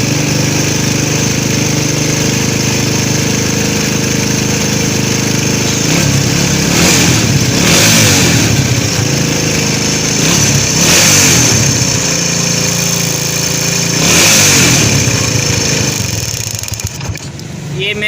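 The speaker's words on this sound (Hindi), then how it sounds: "ये मैं किक लगाने लगा हूँ" A United 100cc motorcycle that had a starting problem runs after being kick-started, its engine idling loudly up close and revving in several sharp bursts before settling, with a voice heard at times.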